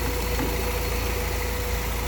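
A car engine idling steadily at 830 RPM with a distributorless DigiDizzy ignition, a loud, close, even rumble with a constant hum and no talking.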